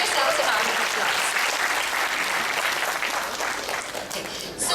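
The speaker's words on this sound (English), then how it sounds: "give yourselves a round of applause" Conference audience breaks into sustained applause, a thick, even wash of many hands clapping that holds steady and then trails off near the end, with some voices mixed in.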